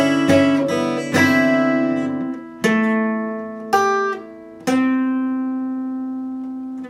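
Clean guitar notes from a song's outro plucked slowly one after another, with a pull-off between notes, each ringing out and fading alone.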